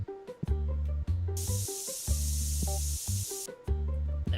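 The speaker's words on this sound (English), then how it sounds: "let me spray one of them down" A spray can hisses in one long steady burst inside the TCG Card Shop Simulator video game, aimed at customers in the shop, loud over tonal game background music.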